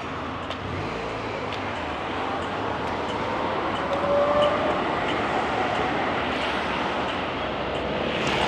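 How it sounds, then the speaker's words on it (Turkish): A tram on line 2 passes along a city street in Belgrade, a steady broadband rumble and hiss with faint wheel squeal, holding loud throughout without voices. "Bakın bu geçti ya bir tane tren."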